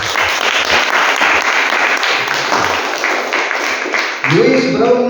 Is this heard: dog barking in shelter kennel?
no